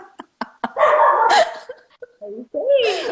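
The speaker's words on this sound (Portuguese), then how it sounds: "É a Psique, o nome da criatura latindo" A dog named Psique barks repeatedly nearby, several short yips followed by longer, louder barks and a whining, rising bark at the end, heard alone indoors.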